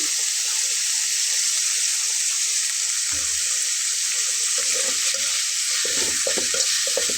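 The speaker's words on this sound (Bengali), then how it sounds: "সবগুলো দিয়ে একসঙ্গে একটু ভাজবো।" Chicken pieces with added spices frying in a pan, a steady broadband sizzle throughout, with intermittent scraping and stirring knocks in the second half and no talk.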